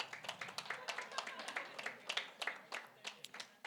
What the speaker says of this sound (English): Those who clapped must sit